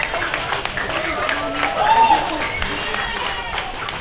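Wedding guests clap and cheer for the newlyweds in a lively, steady din, with an amplified host talking over the crowd throughout.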